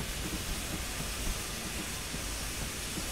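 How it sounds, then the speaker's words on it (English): A steam locomotive runs in the Train Simulator game, a continuous hissing, rumbling rail sound at steady moderate level, heard alone without speech. "Oh, this is my train."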